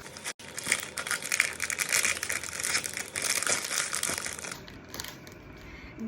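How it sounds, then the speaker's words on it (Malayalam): Plastic wrapping crinkles and crunches steadily while a bracelet package is unboxed, close and continuous for several seconds with no talking. "അപ്പം നമുക്കൊന്ന് അൺബോക്സ് ചെയ്ത് നോക്കാം"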